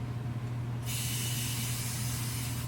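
A short hiss of hairspray being sprayed starts partway through and continues steadily, close up, over a low constant hum.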